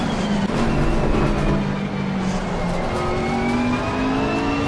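Race car engines roar in Assetto Corsa Competizione on PS5 during a career-mode race, with a Lamborghini in the field: a steady, loud, continuous drone whose pitch rises and falls as the cars accelerate and shift.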